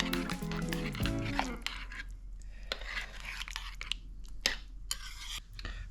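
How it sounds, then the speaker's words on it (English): Yogurt being stirred through a creamy, mild slow-cooked butter chicken curry, with a clear spoon scrape against the pot in the first seconds and then soft, sticky stirring and occasional clinks, close and fairly quiet. "and just stir that through"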